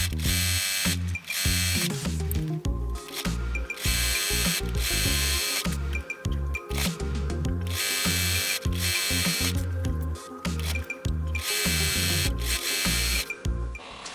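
A sewing machine runs long straight stitches joining quilt pieces, a fast mechanical rattling whir in sustained bursts with brief pauses between runs, close and steady throughout.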